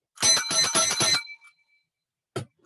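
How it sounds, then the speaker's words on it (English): A bicycle bell rung to open a district conference: four quick bright rings in a burst, then a pause and one more single ring, with no talk over it. "that's the only bell I had, and I'll have to put it back on Janet's bike."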